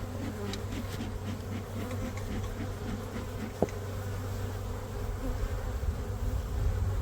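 Honey bees buzz steadily around a nuc hive in an apiary, a dense continuous drone of many insects close by, with a single faint tap midway.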